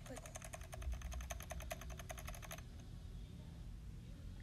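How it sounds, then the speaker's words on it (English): Rapid, evenly paced keyboard typing clatters as an added sound effect for a few seconds over a low background rumble, then stops, leaving only the quiet rumble. "So now you have keyboard sounds."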